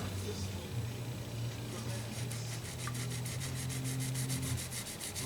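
A guitar's gold top finish is rubbed with 1500 grit micro mesh, giving a steady, close, soft scrubbing hiss that runs unbroken, with a faint background hum.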